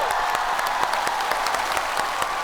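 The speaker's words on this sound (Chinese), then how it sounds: "掌声谢谢大家。" Audience applause fills a stand-up comedy show at the end of a set, dense steady clapping from a crowd with sharp individual claps standing out, continuous for the whole stretch.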